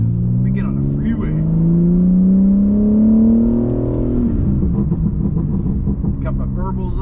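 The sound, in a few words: BMW M4 Competition exhaust burbles on freeway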